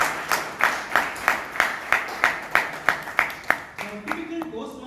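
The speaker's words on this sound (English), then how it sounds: "I think we'll give them a big round of applause." A Toastmasters meeting audience claps in a slow, even, rhythmic pattern of distinct beats, about a dozen strong claps, before the applause breaks up and fades into scattered softer claps.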